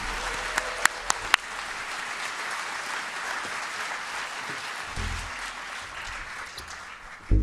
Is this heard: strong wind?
no